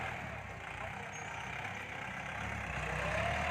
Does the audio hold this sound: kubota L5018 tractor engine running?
yes